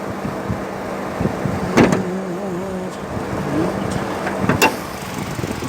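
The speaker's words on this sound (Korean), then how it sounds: "엔진 소리 한번 들려드리겠습니다" A 2012 used car's engine idles with a quiet, steady low hum, joined by a couple of brief mechanical clicks and thumps nearby.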